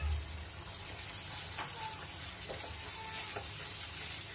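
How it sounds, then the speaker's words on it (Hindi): Paneer masala spices with salt frying in a pan, a continuous close sizzle broken by stirring scrapes and light clinks of a spoon, no talking. "मसाला भी एकदम भुनने लगा है।"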